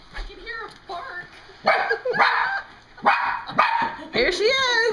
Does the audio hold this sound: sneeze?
no